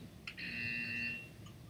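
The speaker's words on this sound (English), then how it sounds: "I can hear your buzzers into my game" A short electronic buzzer tone from the Portal 2 video game comes through over voice chat. It sounds faint and steady for about a second, then drops away into quiet background hiss.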